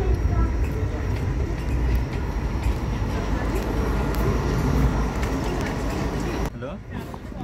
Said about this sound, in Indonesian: Ini keretanya udah mulai cepat ya, berjalannya cepat.